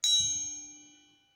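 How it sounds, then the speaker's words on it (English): A pencil strikes metal once sharply, followed by a clear, sustained ring that slowly fades over about a second, with no voices. "When I strike hard with this pencil, a ringing sound will be heard."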